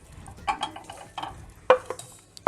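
Diced chicken breast for Mersin tantuni is stirred in a Teflon pan with a wooden spoon, giving scattered light scrapes and taps over a faint, quiet sizzle.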